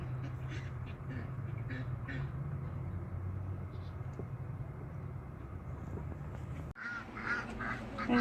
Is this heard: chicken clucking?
yes